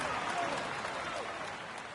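Steady applause from a cycling crowd at a video-game podium ceremony after a Saint-Gervais stage win, a dense even patter filling the moment without a break.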